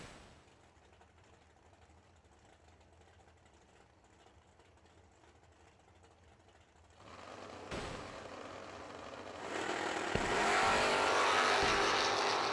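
A 1927 Ford Roadster race car at a drag strip event is heard from a distance, its engine starting quiet and building into a loud roar over the second half, with no talking.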